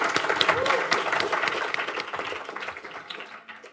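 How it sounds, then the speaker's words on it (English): Audience applause at a designers and tech meetup, a steady wash of clapping from a seated crowd that fades gradually over a few seconds. "Let's give her a quick round of applause."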